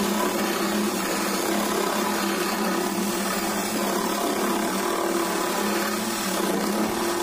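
A cheap 12V cordless drill with a 35 mm porcelain bit whines steadily and loudly as it bores into tile, a continuous grinding drone without pauses.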